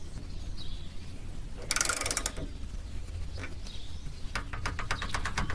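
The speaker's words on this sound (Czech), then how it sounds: "Takže tento šroub pouze povolíme, nevyndáváme ho celý." A screw on a Yamaha XJ6 motorcycle fuel tank is loosened with a hand tool, giving a brief burst of ratcheting clicks followed by a rapid series of faint ticks near the end against low background hum.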